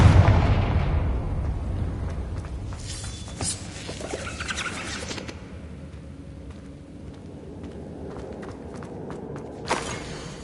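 A Confringo explosion spell in a PS5 video game bursts loud at the start, its rumble fading over several seconds, followed by scattered thuds and a sharp hit near the end.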